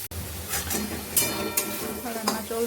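Dried fish fries in a pan with turmeric, salt and ground spices, sizzling steadily while a utensil stirs and scrapes in short bursts, with a few sharper clinks.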